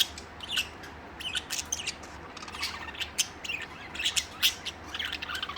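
Budgies and lovebirds squawk and chirp in quick, irregular bursts, a busy close chatter of sharp high calls running throughout.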